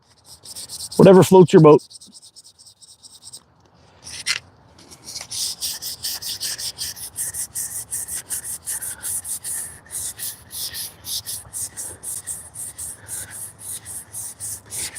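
Hand sanding of wood, a steady scratchy rubbing that repeats in close, even strokes after a brief burst of talk and a pause, continuing through the rest of the clip.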